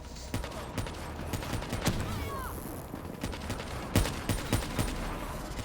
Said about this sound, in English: Let's see if I can at least use my LMG for cover fire there.